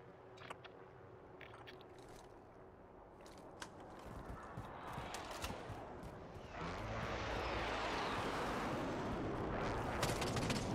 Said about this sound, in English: Heli's about to explode